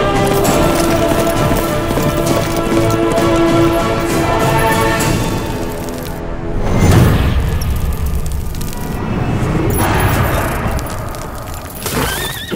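A horse's hooves clop in a continuous fast rhythm, heard loud and close and mixed with booming dramatic music in a dubbed South Indian film scene.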